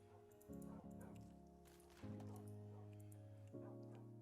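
Dogs in a video game whimper and yip in three drawn-out bursts, each starting suddenly and then trailing off, heard at moderate volume.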